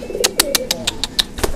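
A young female songbird bought at a bird market calls close by in a quick series of about eight sharp, bright, evenly spaced notes, with no one talking over it.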